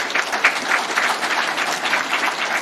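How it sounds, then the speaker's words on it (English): Applause at a court statistics address, a full room clapping in a loud, dense patter that stays steady and close throughout, with no voice on top. "And that, I think, deserves a clap."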